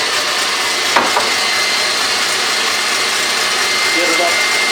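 A KitchenAid stand mixer whirs steadily at a raised speed while whipping a chocolate torte batter, a continuous close motor drone with a brief clatter near the start.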